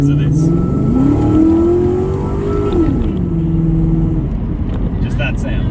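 A Lexus SC400 (Toyota Soarer) V8 engine revs up from inside the car, its drone climbing, holding high, then dropping back as it shifts, loud and steady throughout with faint cabin noise.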